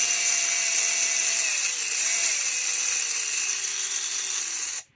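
A small RC car motor soaked in WD40 screams at full throttle, a loud, high, steady electric whine close by with a wavering pitch, cutting off abruptly at the end.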